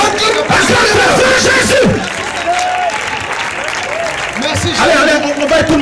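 A church congregation loudly cheers and applauds for Jesus during a worship service, with shouts and voices mixed into dense clapping that swells, dips, then rises again.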